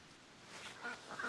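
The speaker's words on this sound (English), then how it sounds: "Now that is some happy ducks." Ducks on a pond give a few faint, short quacks in quick succession, heard from a distance with no other sound over them.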